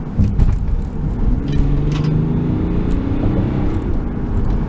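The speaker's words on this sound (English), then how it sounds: "when you push it hard, I'm actually going to go into sports mode the next block or two" A 2016 BMW X5 xDrive35d diesel SUV in sport mode accelerates hard, giving a steady, loud engine drone with rising tonal lines, heard from inside the cabin with no talking.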